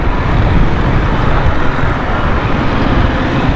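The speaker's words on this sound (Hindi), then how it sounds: "यहाँ पर ट्रैफिक जाम," Dense traffic noise on a congested road through the Lines Area and Khudadad Colony in Karachi, a steady loud wash of car, bus and truck engines with no clear pauses.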